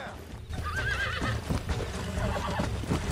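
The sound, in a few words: horse neighing in video game Red Dead Redemption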